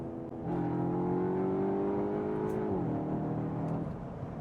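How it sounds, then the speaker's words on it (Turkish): A Cupra Formentor crossover SUV's engine revs up as it accelerates, its steady rising drone stepping down briefly like a gear change, heard from inside the cabin. "Gerçekten de Formentor bir crossover'dan beklenmeyecek çeviklikle hızlanıyor."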